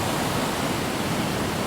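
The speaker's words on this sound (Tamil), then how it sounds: "தண்ணி அப்படியே இங்கே அளவுக்கு போகுது காட்டுக்குள்ளே" Floodwater from an overflowing reservoir tank rushing into a forest, a dense, steady roar of flowing water with no pauses, close and loud.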